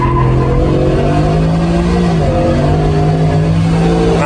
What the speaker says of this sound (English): then we'll do a launch. It's probably gonna blow the tires